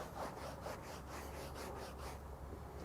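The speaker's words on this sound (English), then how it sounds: "I use a microfiber towel, a damp microfiber towel," A damp microfiber towel rubs dirt off a mat in steady back-and-forth strokes, a soft close scrubbing swish repeated several times with no talk.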